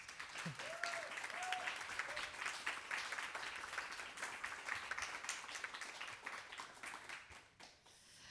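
A room of attendees at a Pride edition talk on healthcare and trans rights applauds Dr. Martin, sustained fairly distant clapping that carries on steadily before thinning out near the end, with a brief voice early on.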